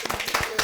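Brisk hand clapping rings out in a Kyrgyz TV game show studio after team scores are announced, a short burst of fairly even claps with no talking.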